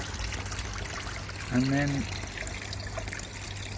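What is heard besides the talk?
water from solar pond pump trickling over rock waterfall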